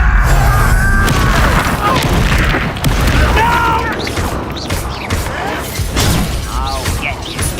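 Confringo fire-blast spell in Hogwarts Legacy, loud booming explosions among clashing combat effects and shouted voices, the blasts strongest at the start and recurring throughout.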